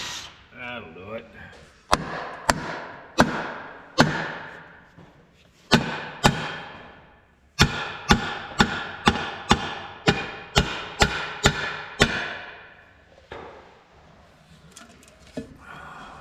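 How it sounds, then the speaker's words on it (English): Metal-on-metal hammering on a bolt of a red wrecker truck: a series of sharp, ringing strikes, spaced at first and then quickening into a rapid steady run of about a dozen blows, close and loud, with no talking. "Well, hammer it on."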